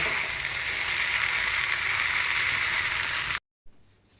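Leftover roti pieces frying in a pan give off a steady, dense sizzle that runs loud and close for about three seconds, then cuts off abruptly, followed by a short quieter stretch.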